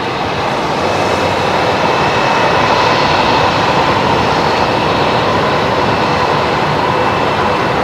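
A Singapore Airlines jet coming in to land on runway 19 right at Brisbane Airport, heard as a steady, loud, broadband engine roar that holds throughout with no voices over it.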